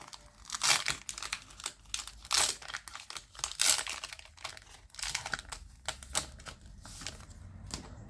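A Pokémon Go booster pack wrapper is torn open and crinkled by hand, giving a close, busy run of crisp rustling and tearing bursts with short pauses and no talk.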